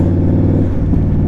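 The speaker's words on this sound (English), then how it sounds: "this bike is like ridiculously loud" An Indian Scout Bobber motorcycle with a loud exhaust rumbles and drones continuously up close, a deep throaty exhaust note holding steady without pause.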